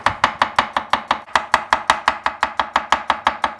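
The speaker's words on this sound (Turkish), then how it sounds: "Onu da böyle ince ince doğruyorum" Rapid, steady knife chops finely cutting pickles on a cutting board, about five strikes per second, crisp and close with no talking.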